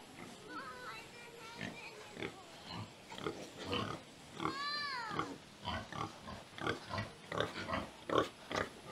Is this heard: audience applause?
no